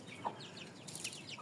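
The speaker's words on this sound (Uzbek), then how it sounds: "Xo'roz men bu. Xo'roz mana." A 3.5 kg rooster of Japanese and Korean cross breed gives a few soft, faint clucks and chirps, short and scattered, with quiet background noise.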